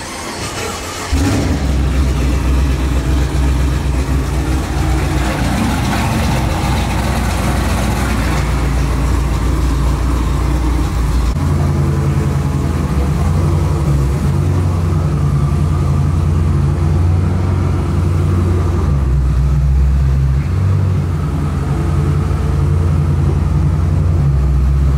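A 1500-horsepower twin-turbo Camaro ZL1 race car at a tuner car show, its engine droning loud and close for a sustained stretch, shifting to a deeper, heavier rumble partway through.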